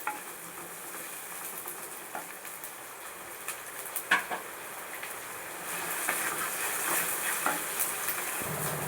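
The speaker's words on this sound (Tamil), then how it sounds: "இப்போது இஞ்சி பூண்டு பேஸ்ட்டோட ஆனியன் நல்லா வதங்கிடுது." Onion frying with ginger garlic paste in a pan: a soft, steady sizzle close by, with occasional clicks and scrapes of stirring and a slight rise in sizzling near the end.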